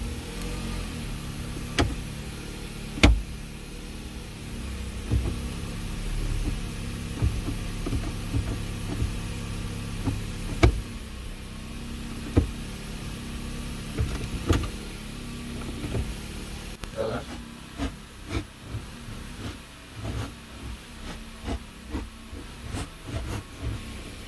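A Jeep Patriot engine idles after starting, a low steady rumble close by, broken by sharp clicks and knocks from handling nearby.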